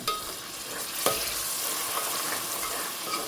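Hot spice tempering sizzles over vegetables in a pressure cooker, a continuous hiss with a sharp metallic clink near the start and a few light scrapes.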